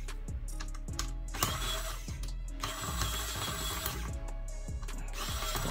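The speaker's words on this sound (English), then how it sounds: "So I'm going to put this screw in there just to see where that takes us." A screw is driven into an HP All-in-One PC during a hard drive to SSD swap, with a close series of ratcheting clicks and short bursts of driving, quiet and without speech.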